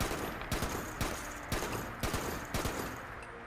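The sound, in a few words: gunshots in Fallout 76 video game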